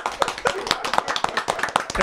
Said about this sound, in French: On peut l'applaudir, les frères